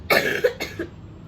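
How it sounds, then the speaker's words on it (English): A single harsh, wet cough bursts out close by, followed by a shorter second hack, then fades into quiet room tone. "that was a disgusting cough."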